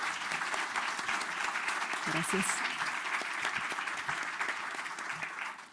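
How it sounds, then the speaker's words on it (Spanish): Audience at an international colloquium on preservation applauds steadily, a broad wash of clapping throughout, with a brief spoken word of thanks partway through. "Los invito a darles un aplauso a nuestras colegas"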